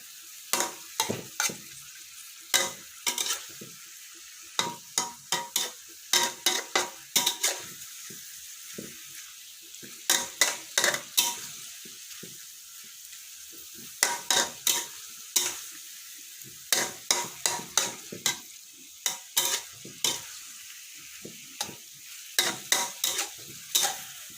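Cucumber and pork stir-frying in a pan, a soft background sizzle broken by repeated bursts of metal spatula scraping and clanking in irregular clusters, near and loud, no talking.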